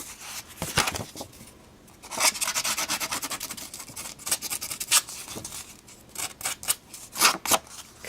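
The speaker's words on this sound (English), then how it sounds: "this is the distressing tool right there" Distressing tool rubbed and scraped along the edges of a paper card in close, irregular scratchy strokes and bursts, alone without speech.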